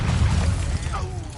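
A Bombarda blasting spell bursts in a wizard video game inside a ruined castle, a short loud boom with crumbling, shattering debris that quickly fades.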